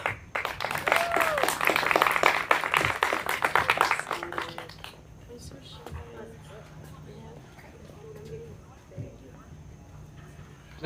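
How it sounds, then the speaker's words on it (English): Applause for a student storyteller at a university showcase rings out dense and loud for about four seconds, then fades into quiet room noise with a few murmurs and scattered sounds. "Another round of applause"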